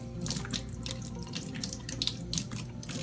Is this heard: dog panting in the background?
no